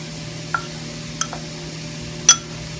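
A spatula stirs a tofu stir-fry in a pan after seasoning goes in, giving a few sharp scrapes and clinks against the metal over a faint steady background hum.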